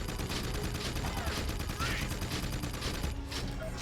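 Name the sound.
Crimson Guard gunfire in the video game Jak II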